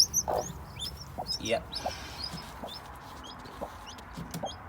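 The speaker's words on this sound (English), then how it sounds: "She's a lovely chicken." A chicken on a farm clucks in short, irregular bursts close by, with other birds chirping faintly in the background and a person briefly speaking.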